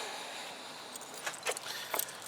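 Keys jangle nearby during work on a Zontes Tiger 125 motorcycle, a few short metallic rattles over a steady low background hum.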